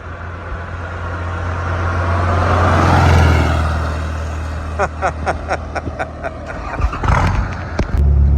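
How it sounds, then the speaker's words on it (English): A VW car's engine revs up in a long rising and falling roar as its tires spin, followed by a burst of sharp clattering knocks and thumps, loud and fairly close. "He's sitting there just gunning it, spinning the tires, burning the engine out of it."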